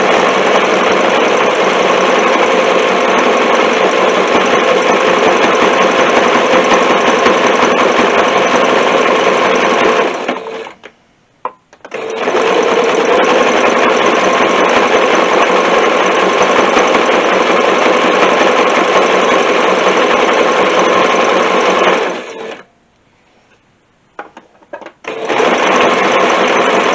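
A sewing machine stitches fabric pieces together for textile bowls, a steady loud mechanical whirr running in long continuous bursts, stopping briefly twice for short pauses before starting again.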